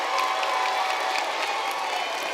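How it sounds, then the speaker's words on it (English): Audience at a school fine arts extravaganza breaks into sustained applause with cheering and whoops, a dense steady wash of clapping from a large crowd. "Let's give them another round of applause, please."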